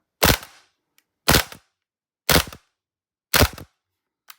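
A Krytac Kriss Vector gas blowback airsoft rifle fires double taps. Four loud, sharp, close bursts come about a second apart, each a quick pair of cracks with a bolt clack, separated by silence.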